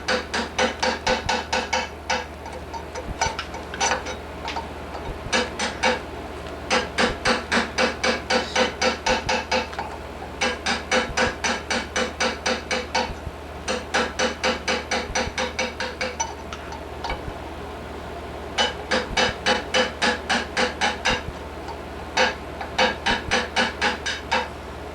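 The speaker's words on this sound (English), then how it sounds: "That kind of helps a lot when you're chiseling into the corners." Rapid bursts of light hammer taps on a chisel cutting a channel for a fine silver inlay, coming in repeated runs of quick, even strikes with short pauses between, close and clear with no talk.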